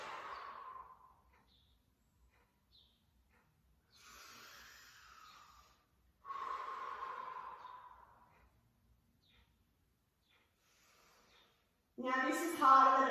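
Breath is exhaled audibly during Pilates matwork, with two soft, drawn-out breaths separated by quiet pauses, then a short burst of talk at the end.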